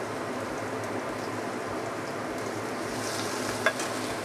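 Minced garlic stir-frying in hot oil in a wok, a steady broadband sizzle with soft scraping stirs, close and continuous, with one brief sharp click near the end.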